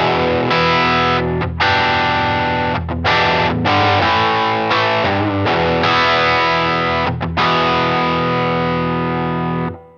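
Electric guitar played through a drive effect on a Line 6 POD GO multi-effects pedalboard, a sustained, saturated distorted tone ringing loud and close with brief gaps between chords and no talking.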